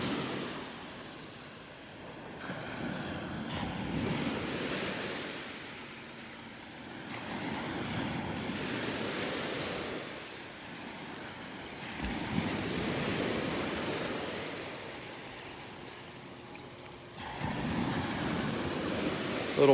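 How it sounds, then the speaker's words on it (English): Ocean surf on a sandy beach in North Naples, Florida, with waves washing up over the sand into a shallow trough and draining back out, in steady repeated surges under a layer of wind noise. "The waves come in over the sand and fill this little trough"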